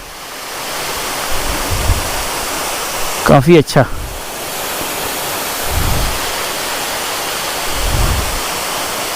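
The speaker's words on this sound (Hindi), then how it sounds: "ये देखो जी आप झरने का व्यू।" A waterfall roars as a constant broad rush of water close by, with a brief spoken comment and a few low wind-like thumps over the steady noise.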